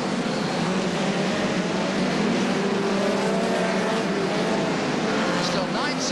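Hot rod race cars thundering around Wimbledon stadium in 1982, a dense continuous engine roar from several cars close by, loud and unbroken with shifting revs, a commentator's voice faintly underneath.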